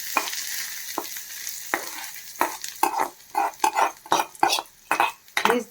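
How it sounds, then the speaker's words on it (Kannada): Hot tempering is poured over a hotel-style mint chutney, giving a loud burst of sizzling and frying along with spoon and pan clinks and stirring clatter up close; a voice is faintly present. "ಈಗ ಈ ಒಗ್ಗರಣೆನ ಚಟ್ನಿ ಮೇಲೆ ಹಾಕ್ಕೋತಾ ಇದ್ದೀನಿ."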